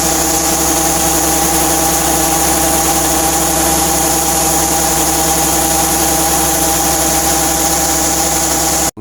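A pickup truck engine idling through a harvest loading, a steady loud low drone with a constant mechanical hum and vibration, close and unbroken throughout, no voices.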